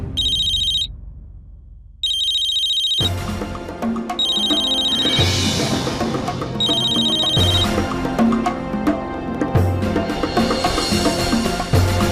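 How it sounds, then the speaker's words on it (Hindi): A telephone rings in repeated electronic trills, broken by a brief silence, then keeps ringing over a loud dramatic music bed. "अक्षर को फोन करती हूँ।"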